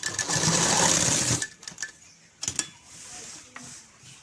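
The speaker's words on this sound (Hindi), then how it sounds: "अब हम इसे इस तरह फोल्ड करते हुए सिलाई ले लेंगे।" Sewing machine stitching folded sharara fabric: a loud, dense run of rapid mechanical stitching for about a second and a half, then stopping, followed by a few short clicks and handling knocks.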